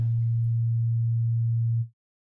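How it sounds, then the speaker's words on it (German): A pure low sine tone from a Bitwig Phase-4 synthesizer, phase-modulated by another sine, holds steady and loud for nearly two seconds before cutting off cleanly. "moduliere jetzt diesen Sinus mit diesem Sinus"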